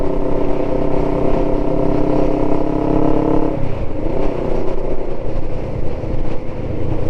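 A steady engine drone from a Kawasaki ER5 motorcycle cruising along, continuous and fairly loud, with a shift in tone partway through; no talking.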